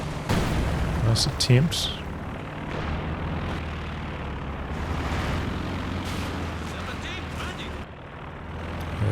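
Artillery barrage in Company of Heroes 2: heavy low booms and rumbling impacts roll through a dense battle din, with a commentator's voice over it throughout.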